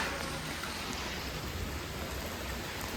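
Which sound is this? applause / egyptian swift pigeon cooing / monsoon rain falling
monsoon rain falling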